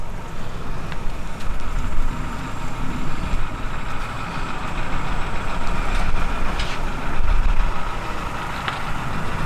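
A right-hand-drive mail truck's engine rumbles loud and steady nearby as it drives past, a continuous low drone with no speech.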